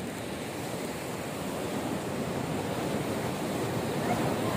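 Ocean waves break and wash up a sandy beach in India, a steady, fairly loud rushing surf that swells slightly toward the end, with light wind and no talking.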